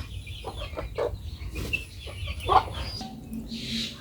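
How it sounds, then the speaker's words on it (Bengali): A native rooster that has just been caught gives scattered clucks and a sharper squawk at close range against a quiet background. "এই তো মোরগটা ধরে ফেললাম।"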